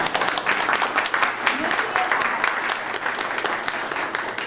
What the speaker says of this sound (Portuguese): Eu acho que a gente pode também bater palmas para a professora